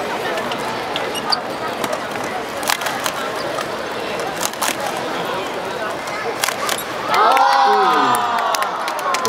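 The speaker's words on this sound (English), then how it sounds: "Give her a big hand." A crowd cheers and applauds at a sport stacking championship, steady and busy throughout with occasional sharp claps. An announcer talks over it, and a louder sweeping burst comes near the end.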